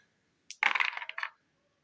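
A six-sided die is rolled across a tabletop wargame table. It makes a quick, close clatter of several small knocks and rattles lasting under a second, then stops in a quiet room.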